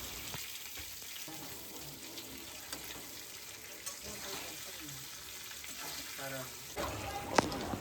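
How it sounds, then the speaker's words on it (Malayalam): Eggplant sautéing in hot oil with asafoetida gives a steady, moderate sizzle and crackle across the whole stretch, with occasional stirring scrapes and a sharper clink near the end. "ആ വഴുതനങ്ങയെല്ലാം ആ ചൂടായ എണ്ണയിലേക്ക് ഇട്ടു"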